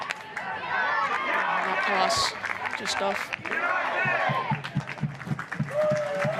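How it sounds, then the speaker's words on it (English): Football crowd at Service FM Stadium during an A-League match between Adelaide United and Newcastle Jets, a lively murmur with scattered shouts and brief clapping beneath a commentator's voice. "a really lively crowd at Service FM Stadium, making a lot of noise"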